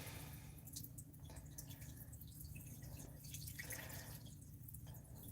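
Peeing into toilet water makes a continuous splashing trickle with soft dripping, close and steady at low volume, with no talking.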